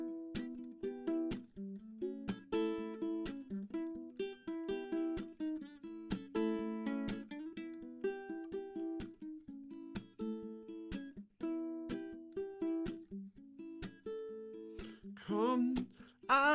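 A song is played live as a plucked, clean, rhythmic riff of repeating notes, alone and up close, with a brief scraping flourish near the end.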